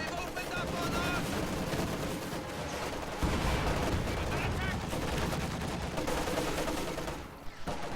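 Dense, continuous battle din from a World War I strategy game skirmish with Maxim machine guns and a field gun: rattling machine-gun bursts and scattered rifle fire layered into a loud, unbroken clamor that barely dips near the end.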